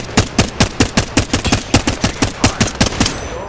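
Loud, close automatic gunfire from a video game, a rapid steady burst of about fifteen evenly spaced shots, with no talking.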